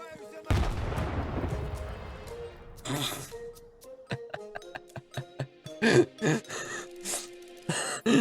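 A grenade explodes in the video game S.T.A.L.K.E.R. 2: Heart of Chornobyl with a loud, deep burst that rumbles and decays, followed by a scatter of sharp gunshots and further bursts, with someone talking in between.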